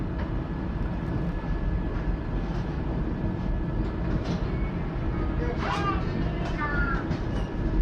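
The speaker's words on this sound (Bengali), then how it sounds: "ঠিক 2 মিনিট পরেই কিন্তু ট্রেন ছেড়ে দিল পরবর্তী স্টেশনের উদ্দেশ্যে।" Vande Bharat Express on the Howrah to Puri run pulling out of Balasore station: a steady, loud rolling rumble throughout, with brief wheel squeals and chirps near the end.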